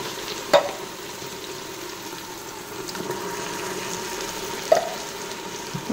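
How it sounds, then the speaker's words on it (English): Leeks sautéing in an Instant Pot, a soft continuous sizzle with two brief clinks of a utensil, close and without talking. "now you gotta saute it until these are nice and brown"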